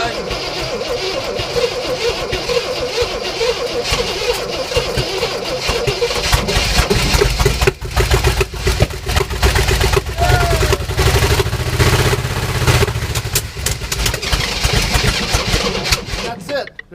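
A 1967 Oldsmobile Toronado engine runs nearby at a steady, rough idle, then sputters and dies as it runs out of fuel. Voices come and go over the engine.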